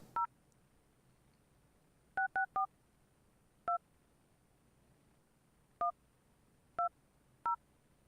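Telephone keypad DTMF tones dial a number during a morning broadcast call: eight short, crisp dual-tone beeps in an uneven run, one isolated, then a quick cluster of three and four more spaced out, clear against a quiet background with no talk.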